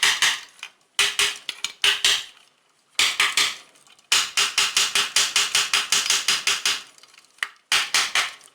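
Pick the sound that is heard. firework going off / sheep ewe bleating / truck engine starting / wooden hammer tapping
wooden hammer tapping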